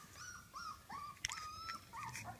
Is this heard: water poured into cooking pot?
no